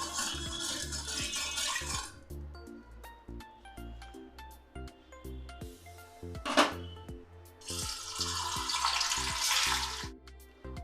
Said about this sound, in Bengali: প্রথমে আমি পনিরটাকে ভেজে নেব